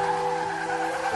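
A car's tires skid and squeal on a city street as it nearly hits a man; a steady high screech holds for over a second, loud and close, with no voices.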